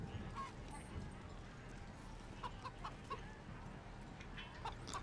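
A chicken clucks softly in a farm scene in the video game Baldur's Gate 3, with faint scattered clucks over a steady low background.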